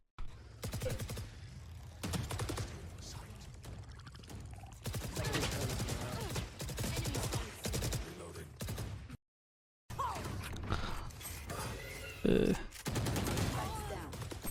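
Gunfire in the video game Valorant, with rapid automatic bursts and single shots repeating through most of the stretch over steady game sound, mixed with players talking and a brief dropout in the middle.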